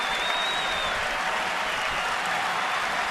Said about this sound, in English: And now the crowd starts to build again on account of no balls and 2 strikes.